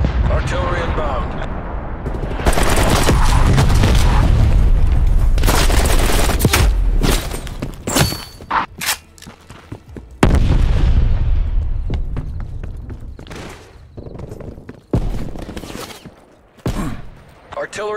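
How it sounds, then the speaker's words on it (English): Artillery explosions in Call of Duty: Black Ops Cold War, set in Miami on PS4 Pro, with loud booming blasts and rumbling impacts mixed with gunfire bursts, sustained at first and then breaking into separate heavy hits, with talk at moments. "Artillery inbound."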